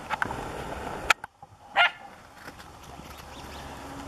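Dogs barking at a deer buck outdoors, a few sharp separate barks and yips at moderate distance, broken by quiet gaps, with faint background ambience and no talking.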